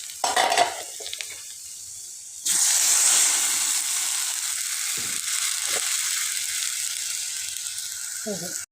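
Water hits a pan of Maggi noodles frying in oil with masala. After a few light clatters, a sudden loud burst of sizzling hiss erupts and keeps roaring steadily, with occasional stirring knocks.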